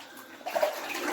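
Someone wades through knee-deep water inside an old mine on Mount Karangahake, New Zealand, with quiet sloshing and splashing that grows louder after a short lull.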